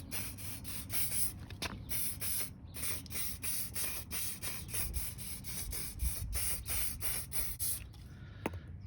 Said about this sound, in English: I'm going to spray them with hairspray